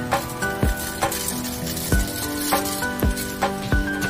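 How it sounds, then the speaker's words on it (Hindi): Rice roasting in a pan for matar pulao, with a soft continuous sizzle and repeated sharp clinks and scrapes of a spoon stirring against the metal, several evenly spaced strikes close by. "हे तांदूळ असे थोडे भाजून घ्यायचे आहेत"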